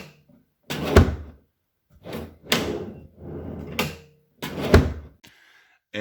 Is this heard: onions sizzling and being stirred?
no